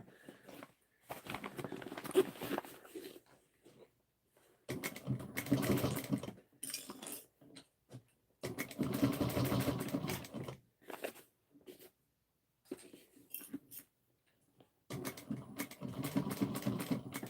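A sewing machine stitching a bag runs in several multi-second bursts with brief silent gaps between them, a steady close-up whirring, with no talking.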